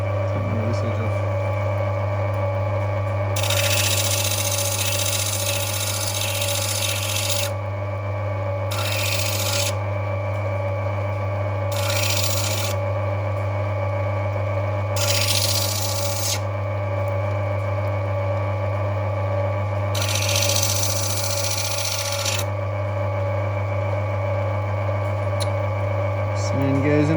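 An opal stone is pressed against a sanding wheel in bursts of harsh rasping, five separate grinding passes of varying length over a constant motor hum.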